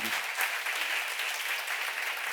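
A church congregation at a seminar claps together in a dense, even burst of applause that holds steady for a couple of seconds.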